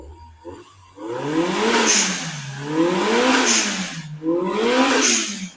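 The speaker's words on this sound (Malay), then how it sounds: "Bila test running kita belanja dia bunyi. Bunyi dia punya enjin." A Perodua Kancil's swapped engine revs up three times in rising and falling sweeps, loud and close, idling briefly between each burst.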